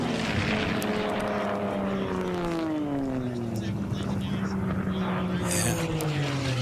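Sport-class racing airplanes round pylon 1 at the Reno Air Races, their engines droning loud and continuous with falling-pitch passes as they sweep by, under a race commentator's voice.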